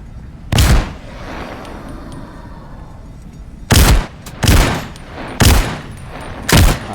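Shotgun blasts ring out in the video game Into the Radius 2, five loud separate booms spaced irregularly over a quiet, faintly rumbling background with no talk.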